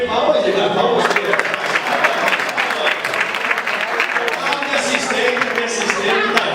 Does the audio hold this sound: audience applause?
yes